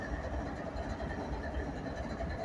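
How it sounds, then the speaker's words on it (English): A northbound coal train led by an ET44AH locomotive ties down in Abbeville, South Carolina, producing a loud, continuous low rumble with a faint clatter of railcars and no talking. "ET44AH. And there's your coal train."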